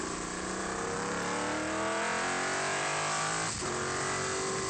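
Talon MR1 F5000 race car engine heard from onboard at Taupo, a loud, continuous high-pitched roar that climbs through the revs, drops briefly at a gear change, then pulls hard again.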